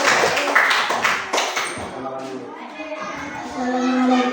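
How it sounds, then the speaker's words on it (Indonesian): Classroom of children clapping for a presenting group, a brief ragged burst of many small hands at the start, fading into children's chatter and voices. "beri tepuk tangan dulu kepada kelompok"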